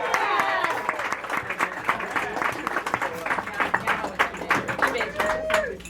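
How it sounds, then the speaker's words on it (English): An audience claps and cheers as a musician and comics artist is welcomed onstage, a dense, continuous burst of applause with scattered whoops throughout, fairly close and loud. "please give a round of applause and welcome to the stage"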